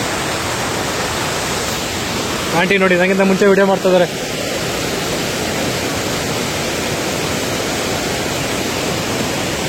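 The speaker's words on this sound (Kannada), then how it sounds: "ಇಲ್ಲಿ ಮುಂದೆ ಹೋದ್ಮೇಲೆ ತುಂಬಾ ವಾಟರ್ ಫಾಲ್ಸ್ ಸೌಂಡ್ ಇದೆ" A steady, loud rush of a hillside waterfall in Kerala near Kottiyoor fills the whole clip, with a short stretch of speech rising over it near the start.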